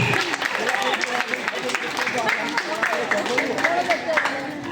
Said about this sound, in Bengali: আরেকবার হাততালি।